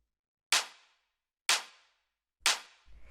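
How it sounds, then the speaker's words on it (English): Three single, full-bodied clap samples for a house music track, each a sharp, punchy hit with a short decaying tail, spaced about a second apart with no other sound. "just like this very full-sounding clap with a lot of body to it"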